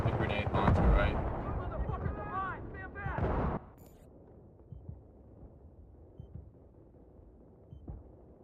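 Grenade launcher fire in Battlefield 3 on PS3: heavy booming blasts and rumbling detonations, close and loud, mixed with a talking voice at first, then trailing off into a quieter battlefield rumble.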